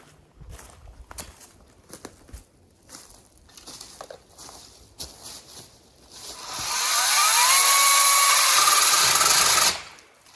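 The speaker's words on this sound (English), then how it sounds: "let's have our safety glasses on and do a little trimming" A Ryobi Expand-IT cordless 10-inch pole saw trims branches. Soft rustling and footsteps come first, then the motor whirs loudly and steadily for about three seconds before it cuts off.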